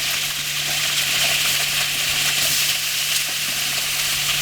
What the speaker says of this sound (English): So now I'm going to turn them all over and sear the other side.